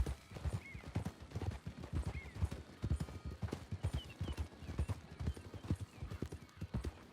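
Horse hooves clip-clop at a steady walking rhythm, close and distinct, with a brief whinny in the mix.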